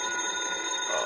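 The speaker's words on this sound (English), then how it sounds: "It's almost noon when the phone wakes you." Telephone ringing as an old-time radio drama sound effect, a continuous bright metallic bell trill with steady tone, no voices.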